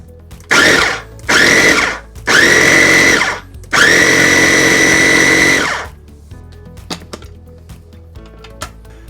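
Food processor pulsing vegetables for a Southwestern braised pork shoulder, four loud close whirring bursts of rising length, the last about two seconds, followed by quiet clatter.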